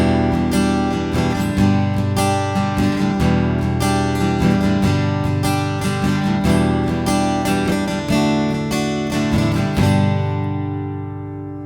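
An acoustic guitar strums the chorus chords of a song in a full, loud, steady rhythm, ringing out at the end.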